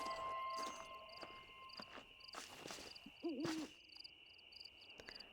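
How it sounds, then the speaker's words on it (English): In the Red Dead Redemption video game, an owl hoots once at night amid chirping crickets and other ambient insect sounds, faint and fairly distant. "I hear an owl."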